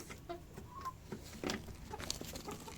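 A rooster clucks among backyard chickens, scattered short clucks and soft calls from several birds at close to moderate distance, fairly quiet with some brief sharper notes.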